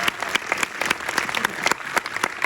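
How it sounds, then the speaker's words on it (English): An audience at a film Q&A breaks into applause, a brief burst of dense clapping that stays fairly close and even for a couple of seconds. "He gets applause."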